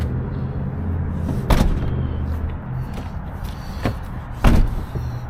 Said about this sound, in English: We're gonna close the door.